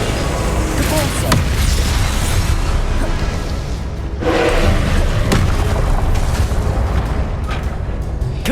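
Spell impacts in Hogwarts Legacy, repeated booming thuds and bursts from the Depulso repelling charm cast in combat, loud and close against a dense battle din.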